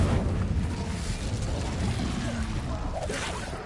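A fire spell cast in Hogwarts Legacy gives a loud, dense whooshing burst with a rumbling body that carries steadily for several seconds.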